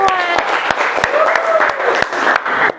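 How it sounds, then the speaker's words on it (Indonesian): Students in a mathematics classroom clap loudly in a fairly rhythmic pattern, with sharp, spaced hand claps and voices talking and calling out underneath. "tepuk tangan untuk kita semua"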